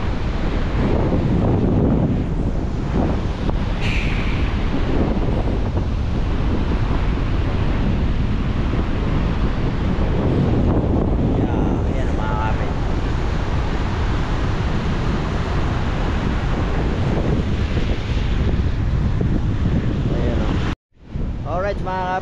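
Stormy wind and crashing waves on a seashore during a typhoon, a continuous loud roar with heavy wind buffeting on the microphone, ending in a brief cut-out near the end.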